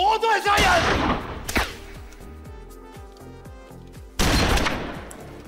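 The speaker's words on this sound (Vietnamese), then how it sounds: "Chú ý đến chi tiết bắn súng ở đây." Gunfire in a crime film shootout between police and mafia figures: loud bursts of shots open and close the scene, with a sparse run of sharp single reports between them.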